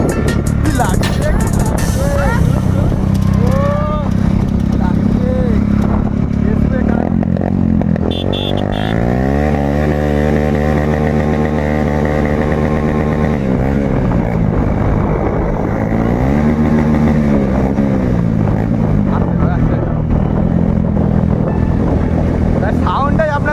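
A motorcycle engine running while riding, a continuous loud drone whose pitch climbs and settles as the bike accelerates and shifts, with wind noise over it.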